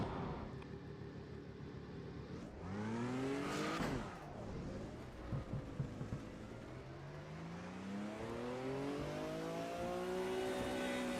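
A race car engine in the sim racing game Automobilista 2 struggles to start, then revs loudly and continuously with repeated rising and falling pitch sweeps and a brief sputter near the middle, close and alone without talk.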